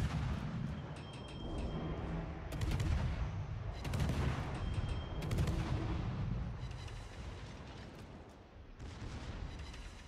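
Naval guns firing armor-piercing shells in World of Warships, a dense run of heavy booming shots with rumbling low-end blasts spread across the scene, loud and continuous with no talk over it.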